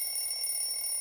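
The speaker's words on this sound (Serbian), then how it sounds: "to je zvuk mog budilnika." A cartoon alarm clock rings in a steady, bright electronic tone for about a second, loud and alone, with no voices.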